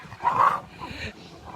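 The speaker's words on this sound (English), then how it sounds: "So what you see there is 2 little puppies trying to establish dominance." Two dingo puppies at a reptile park tussle over food, giving a close, loud whimpering yelp followed by softer whines and growly sounds.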